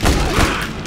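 A quick burst of loud, booming revolver gunshots in a video game, two or three heavy blasts in under a second, close and punchy.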